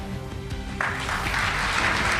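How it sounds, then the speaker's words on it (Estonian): Audience at a concert and ceremony for the Estonian Republic's 98th anniversary in Valga breaking into applause, clapping swelling in after a moment and continuing steadily, close and dense. "Suur aplaus!"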